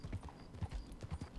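Horse hooves clip-clop in the Red Dead Redemption 2 game, a big rider on a comparatively small horse, giving a steady run of close, dull thuds at an even walking pace.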